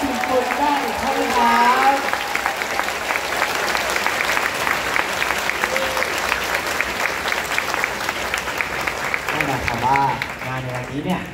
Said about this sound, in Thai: ขอเสียงปรบมือดังๆอีกครั้งหนึ่งครับให้กับงานสวนกุหลาบคอนเสิร์ตครั้งที่13 Muso Symphonicaได้ครับ